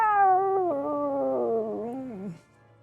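A cat lets out one long, drawn-out yowling meow that slides downward in pitch and ends abruptly, close and fairly loud in a quiet room.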